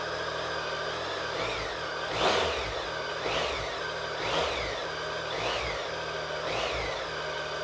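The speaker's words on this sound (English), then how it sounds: "Give it a little rev." Triumph 1050 Tiger Sport motorcycle engine revving from idle, about four rising and falling blips over a steady close running note, with no talk.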